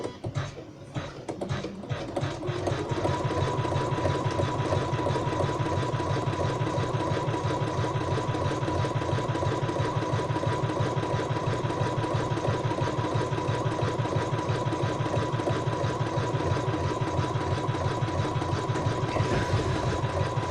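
A sewing machine stitches a coaster, starting up after a short hesitation and then running in one long, loud, steady whir to the end.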